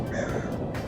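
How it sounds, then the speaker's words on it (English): Crows cawing outdoors, a brief rough call or two heard close and fairly loud, with no talking. "Even the crows are laughing at me."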